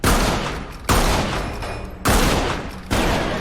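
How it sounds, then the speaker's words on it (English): Rapid bursts of video game gunfire from a shooter match, three loud broadband volleys in quick succession, each starting sharply and rattling on before the next begins, with no talk over them. "there's someone shooting at you guys"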